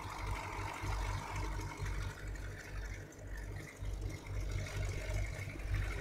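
Tractor engines from a farming video game set on an old Polish farm during hay mowing, a steady low rumbling drone that runs throughout at moderate loudness with some fluctuations.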